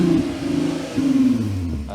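A car engine revving hard with its exhaust valve closed, the exhaust fitted with a manifold and catalytic converters, making a muffled, throaty rumble that rises twice, close and loud.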